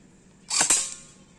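A single sharp gunshot at an outdoor shooting range in Dimapur, a loud crack followed by a brief decaying echo, with no other sound around it.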